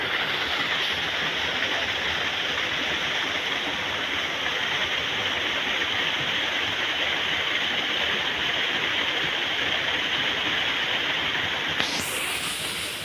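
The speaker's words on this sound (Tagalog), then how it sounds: "There, the waterfall." A waterfall roars steadily and loudly through a canyon in Catbalogan, Samar, a dense continuous rush of falling water that never lets up, with a brief shift near the end.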